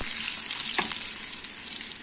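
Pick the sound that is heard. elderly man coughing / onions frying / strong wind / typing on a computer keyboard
onions frying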